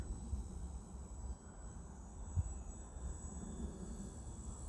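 Distant, steady drone of a high-wing radio-controlled model plane's motor flying slowly overhead, faint and continuous, alone with no talk.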